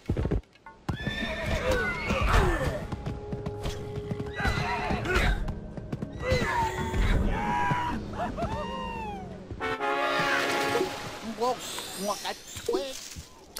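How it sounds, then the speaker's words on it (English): Horses in Civilization whinny and neigh repeatedly over steady clip-clopping hooves, loud and close, with game music and effects underneath throughout. "Got a horse army. That's kind of cool."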